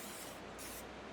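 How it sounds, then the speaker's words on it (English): Olive oil is sprayed onto corn from a mister in one continuous close hiss lasting about a second, with no talking. "We're just going to spray it with olive oil,"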